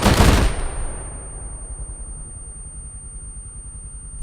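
A rifle volley fired as a memorial salute for a fallen sergeant, one loud, sharp report that booms and then trails off into a long, fading echo outdoors.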